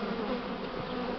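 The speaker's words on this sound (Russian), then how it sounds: "Пчела хорошая, это медоносная, хотя и не бакфаст." Honey bees buzz densely around a swarm, a steady, close, continuous hum filling the short moment with no voices.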